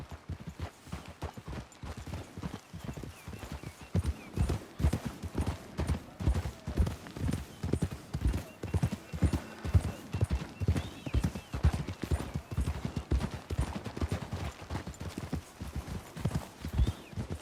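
Horse hooves clip-clop steadily in Red Dead Redemption 2, with several horses walking in an even, close rhythm and faint voices briefly heard.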